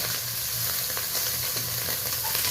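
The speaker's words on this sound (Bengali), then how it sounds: "এই দেখুন আমি মাছটাকে ভালোভাবে নেড়ে নিচ্ছি" Mourala fish sizzling steadily in hot oil as it is stirred in a pan, a continuous close, even crackle with faint scraping, no voices.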